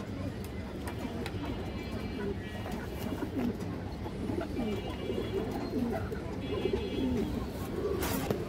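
Pigeons, including a green-necked female, coo repeatedly in soft, throaty bursts close by, with a steady background hum and a faint voice murmuring underneath.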